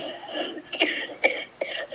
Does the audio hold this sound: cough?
yes